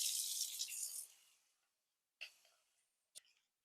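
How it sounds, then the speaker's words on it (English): Warm water being poured into a kare-kare peanut sauce mixture for a chicken stew: a faint splashing pour that fades out, followed by two brief soft clinks or splashes in a quiet room. "So I'm just gonna put some warm water to it."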